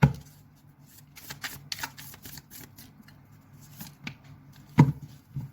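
Tarot cards are shuffled close by in quick, papery riffles and soft slaps, with a burst of rapid flutters followed by a few scattered taps and one sharper snap near the end.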